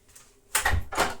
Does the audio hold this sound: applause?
no